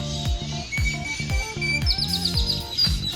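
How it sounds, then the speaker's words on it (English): Birds call from trees in Costa Rica, where green parrots are squawking, with repeated sharp chirps and calls in a quick irregular rhythm, fairly close and continuous, with no voices. "There's green parrots all in those trees squawking up a storm."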